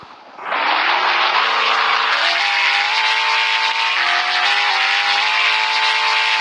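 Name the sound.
car engine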